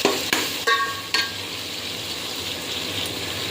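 Ginger garlic paste fries in a hot pan with a steady broadband sizzle, broken early by a few clinks and scrapes of a stirring spoon against the metal; no one speaks.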